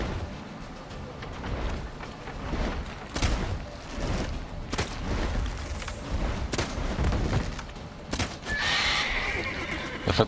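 A horse whinnies repeatedly over a dense, busy background of clattering hooves and sharp booming impacts, loud and continuous throughout, from the video game The Witcher 3: Wild Hunt.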